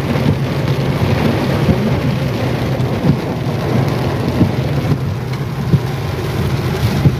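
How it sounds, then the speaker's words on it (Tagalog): Steady heavy rain pours down with low rumbling thunder rolling beneath it, a continuous dense wash of sound with occasional louder drum-like surges, no voices present. "Ulan na."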